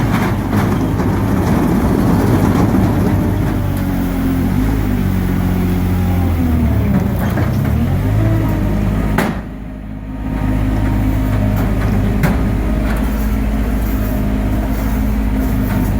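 A Mobitrac tracked vehicle drives onto a trailer, its engine a steady, loud rumble throughout with a brief dip in the middle before the drone resumes.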